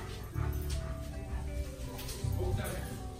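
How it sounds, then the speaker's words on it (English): A frightened dog whimpers and yips in short bursts indoors, close by, partly under people talking. "don't hurt my dog. He's scared."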